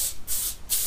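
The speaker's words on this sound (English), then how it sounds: "spray it with cooking oil" Cooking oil sprayed from a can onto a foil-covered baking sheet, three short hissing bursts in quick succession, close and fairly loud, with no voices.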